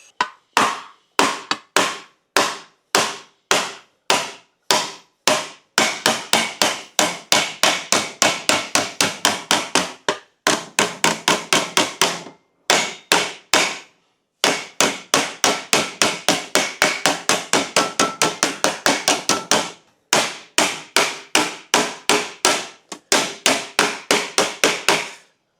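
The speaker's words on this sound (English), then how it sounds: "we're going to use a smooth-faced hammer" A smooth-faced hammer taps out a dent in a car door panel, striking in long runs of rapid, evenly spaced metallic blows with short pauses between bursts, loud and close with no talking.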